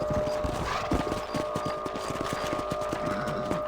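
Horse hooves beat out a steady, quick clip-clop rhythm in Red Dead Redemption as riders move across a ranch property, with the galloping close and continuous under faint game ambience.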